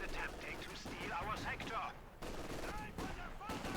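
Light machine gun bursts from a Company of Heroes 2 battle, repeated rattling fire with explosions and battle noise layered under a commentator talking throughout.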